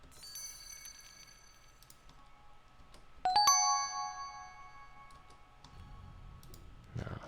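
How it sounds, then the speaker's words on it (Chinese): High-pitched ringing bell tones from a Carto video game puzzle sound effect: several thin chimes sparkle and overlap over a soft low tone, with a louder cluster of dings in the middle that decays slowly, heard alone. "还有一些高频铃铃铃的声音。"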